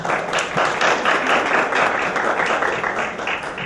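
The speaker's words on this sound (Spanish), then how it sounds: "Un aplauso para él." Audience applause in a hall for a doctor from a hospital liver unit opening a clinical case session, a dense continuous burst of clapping from many hands held at an even level throughout.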